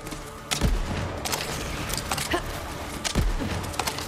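Shotgun blasts in the video game Borderlands 3, two heavy booming shots about two and a half seconds apart, set against steady rattling combat noise and smaller clicks and impacts.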